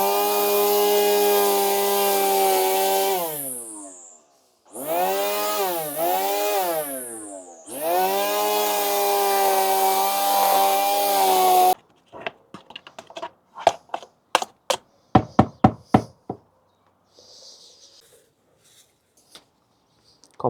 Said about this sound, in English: I just changed the line on it, so we're going to cut the grass for the first time.